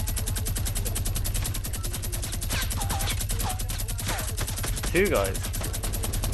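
Rapid, steady gunfire from a minigun-style weapon in Fortnite, a continuous rattling stream of shots throughout, with players talking over it.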